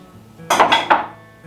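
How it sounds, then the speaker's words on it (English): Diced peach tipped into a bowl gives three quick clinks and clatters close by, a short burst of dish noise that settles back into quiet kitchen room tone. "I'm just going to take my diced peach and put it in a bowl here"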